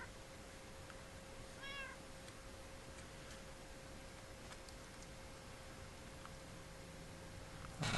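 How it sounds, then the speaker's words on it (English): A cat in the Minecraft video game lets out a single brief, faint meow early on, under a constant hiss and a steady low hum, with no one speaking. "Hello, kitty."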